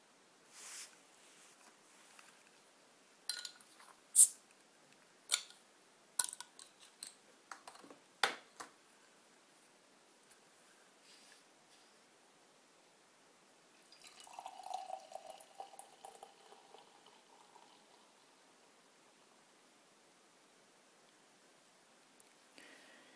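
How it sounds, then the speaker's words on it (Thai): A bottle of Kronenbourg 1664 beer is opened with a scatter of sharp glassy clicks and clinks, followed by a soft, steady fizzing pour a few seconds later, close by and with no talking. "เพื่อเป็นการไม่เสียเวลาเรามาเปิดขวดกันเลยดีกว่านะครับ"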